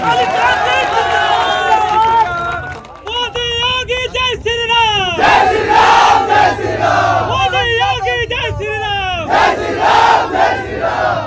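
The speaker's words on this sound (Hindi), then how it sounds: "जोरदार ताली बजाओ मोदी जी के लिए।" An outdoor political rally crowd for a Lok Sabha candidate roars and chants in unison, a loud, dense wall of massed voices and cheering with rhythmic shouts rising and falling throughout.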